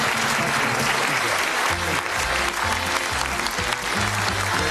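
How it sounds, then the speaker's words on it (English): A studio audience on a British darts game show claps in a continuous, dense round of applause, loud and close, with music and a presenter's voice faintly underneath. "Give her a nice round of applause"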